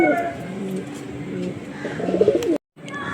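Kalanka pigeons coo in a low continuous warble close by, the sound cutting off abruptly near the end with faint talk in the background.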